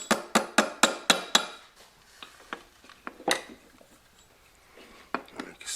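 A hammer strikes a wood block held against a 1996–98 Mustang hydroboost assembly part, first in a quick run of six sharp, evenly spaced knocks, then scattered lighter taps and clinks, close by.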